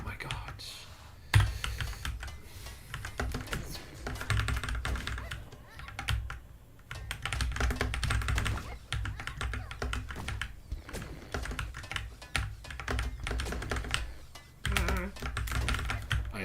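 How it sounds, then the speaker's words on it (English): Keys clatter on a computer keyboard in rapid, uneven bursts with brief pauses, fairly close and quiet, while a person talks softly in between. "Alright, switching to the keyboard."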